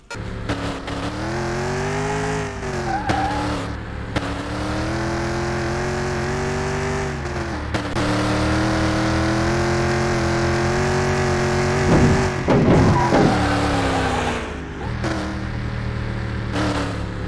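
A restored Ford Mustang GT350 drives hard, its engine droning loud and close with rising and falling revs through gear changes, brief drops as it lifts off, and a rough burst of acceleration near the end.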